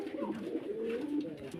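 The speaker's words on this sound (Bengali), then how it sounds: "দেখেন একজোড়া কবুতর" Lahori pigeons, a white breeding pair displayed for sale, give a continuous low cooing that carries on steadily through the moment.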